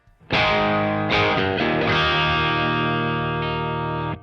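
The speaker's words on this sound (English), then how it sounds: "I've got my Strat, and this is the sound of it into the Kraken" Stratocaster electric guitar into a Kraken pedal with a crunchy, overdriven tone: a few picked chords struck in quick succession, then one chord left ringing and sustaining.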